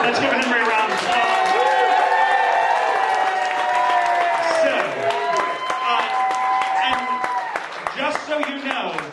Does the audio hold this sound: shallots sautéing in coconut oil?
no